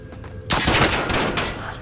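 Rapid gunfire from a video game match bursts in loudly and continues as a dense, sustained volley after a brief stretch of quieter background.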